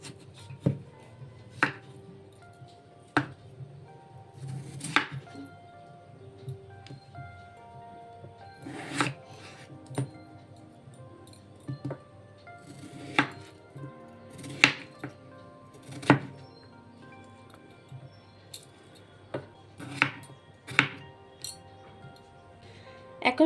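A knife chops a peeled potato on a cutting board, a series of sharp, distinct cuts spaced irregularly a second or two apart, close and crisp against a quiet kitchen background, with no talking.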